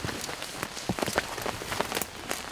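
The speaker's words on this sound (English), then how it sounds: "what was a mist all afternoon had started to turn into a pretty good rain shower" A decent rain shower falls in the woods after an afternoon of mist. Dense, steady patter of drops lands close on surfaces, with scattered louder taps and no voices.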